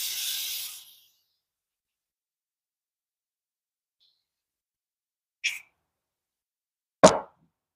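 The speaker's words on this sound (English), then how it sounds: "Brake cleaner again." Brake cleaner sprays onto a utility trailer wheel bearing in one short hissing burst under a second, followed by silence and two brief sharp clatters later, close and otherwise quiet.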